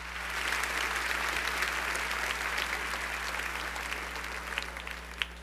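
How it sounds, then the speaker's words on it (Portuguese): Congregation applauding during a morning church service, steady broad clapping sustained throughout with a low electrical hum underneath. "Vamos aplaudir"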